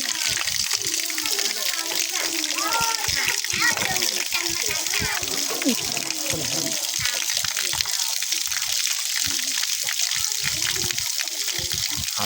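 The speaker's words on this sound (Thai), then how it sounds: "วันนี้เขาจะนำเอาสาลีของเขาเอาไปทำความสะอาด" Water splashes and sloshes as corn is washed by hand in rural Laos, close and continuous, with a voice and other talk mixed in over the watery churn.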